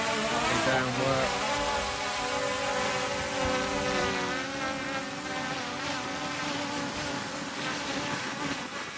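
Steady high-pitched buzzing whine of a small drone in flight after repair from a crash, its rotor pitch wavering in the wind, with a voice talking over it.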